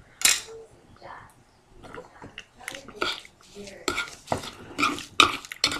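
A spoon stirs a sugar lip scrub mixture in a bowl, giving soft scraping and clinking strokes in uneven bursts, close by and moderately loud, with a voice talking over parts of it.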